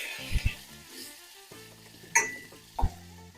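Tomato, green chili and curry leaves stirred in a pan for South Indian rasam, with a soft sizzle and a few sharp spatula knocks against the metal, quiet and close.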